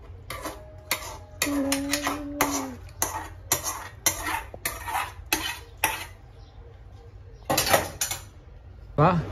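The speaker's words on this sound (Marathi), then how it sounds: "हां मिक्स करूया, पहिला गॅस ऑफ करून मग मिक्स करायचं" A utensil clinks and scrapes against a pan in a quick, uneven series of sharp knocks as noodles are mixed with masala after the gas is switched off, with a brief voice-like tone partway through.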